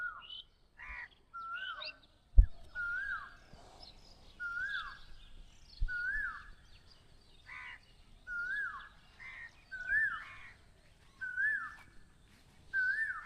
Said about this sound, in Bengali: এই যে ঘুঘু পাখি